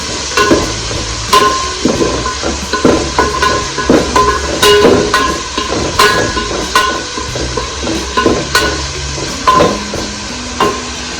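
Chopped onions and tomatoes for chicken dum biryani sizzle in a pan as a spoon repeatedly scrapes and knocks against the metal in an uneven rhythm, loud and close, with no talking.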